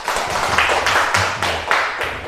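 A classroom of students claps hands together in short rhythmic bursts of group clapping, fairly close and moderately loud, a few rounds in quick succession.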